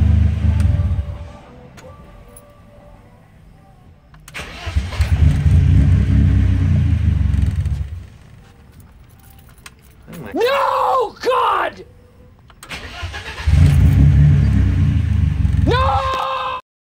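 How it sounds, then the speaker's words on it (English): A BMW E30 with M42 engine on Megasquirt idles with a low rumbling drone that comes and goes in stretches, with a person talking between the engine passages. "Just wanted to see if I could get the car to idle it alone, which seems like it works."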